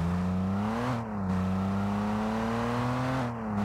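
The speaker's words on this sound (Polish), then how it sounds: "O, dźwięk silnika jeszcze." A Ford Bronco engine in the game Rocket League hums at a steady idle with slight revving rises and dips, close and continuous with no talking.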